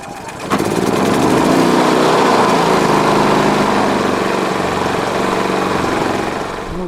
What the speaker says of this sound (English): So we'll just start it up here, and I'll warm it up a bit before I drain the oil